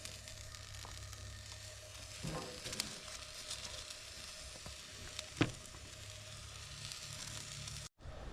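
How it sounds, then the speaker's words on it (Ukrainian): Steady soft sizzling of zucchini and broccoli frying in a pan at a Canadian campsite, with occasional clinks and scrapes of a utensil stirring. "І це все зараз буду нарізати і також смажити."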